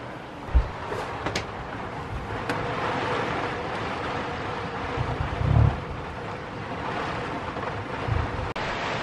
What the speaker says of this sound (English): That is the wind whistling around the caravan.